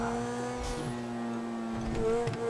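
An engine hums steadily as a car drives through a city in the FiveM mod of GTA, a sustained tonal drone that swells slightly and picks up a brief rougher rev near the end.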